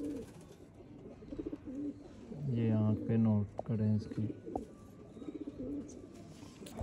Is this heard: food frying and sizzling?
no